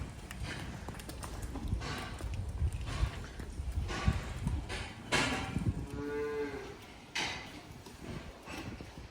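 A herd of cows on a farm moo repeatedly at moderate distance, with low bellows rising over a steady background of shuffling hooves and outdoor rustle, no talk over them.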